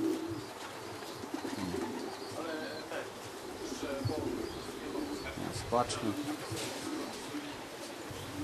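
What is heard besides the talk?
racing pigeons arriving at loft, cooing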